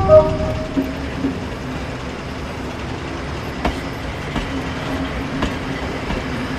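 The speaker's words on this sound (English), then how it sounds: "As the train departed" A cartoon train rumbles steadily as it departs, with a continuous low roar and occasional clanks and clacks, its wheels rolling along the track.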